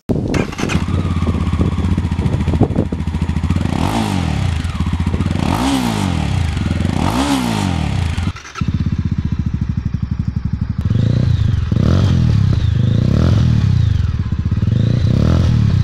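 Mahindra Mojo 300 motorcycle engine and exhaust, steady loud running with several rising rev sweeps, a brief cut near the middle, then continued close, throaty revving to the end.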